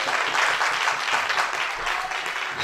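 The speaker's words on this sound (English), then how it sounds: "Somebody give the Lord a clap offering." A church congregation claps together in a sustained, dense round of applause during a worship service, steady and fairly loud throughout with no speech over it.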